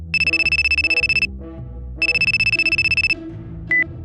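An electronic phone ringtone trills in two bursts of rapid repeating pulses, each about a second long, with a short beep near the end. It is close and clear, with a low background murmur underneath.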